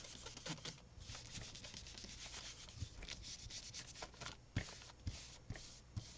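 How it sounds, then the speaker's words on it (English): A hand rubs over paper laid on a gel printing plate to lift the color for a mixed media print, a soft, close, continuous scuffing with a few light taps toward the end. "And then I'm going to rub to pick up the color."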